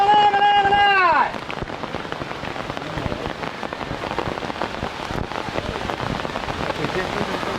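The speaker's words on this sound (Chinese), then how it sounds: "好大的雨哦！" A heavy downpour during a thunderstorm hisses steadily on surfaces close by, with dense patter throughout, after a brief tonal sound at the very start.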